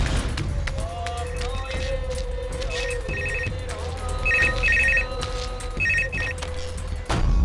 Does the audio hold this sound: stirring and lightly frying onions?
no